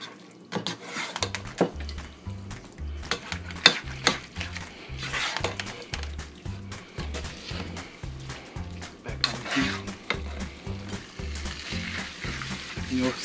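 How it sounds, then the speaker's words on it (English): A steady sizzle and crackle of salsa cooking in a hot pan runs throughout, with rhythmic scraping and stirring thumps and occasional clatter. "hear it starting to sizzle"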